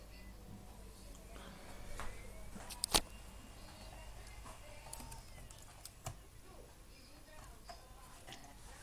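Keys on a computer keyboard are tapped in short irregular bursts while a password is entered, faint and close, with a sharper click near the middle and someone speaking quietly over the low hum of a room.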